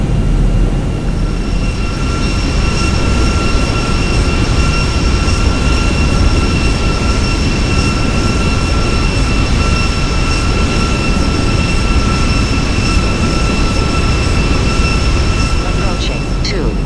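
Boeing 737-800 in a video game flight simulator on final approach, with a steady broad engine and airflow roar running continuously at even loudness, plus faint high tonal whines held throughout.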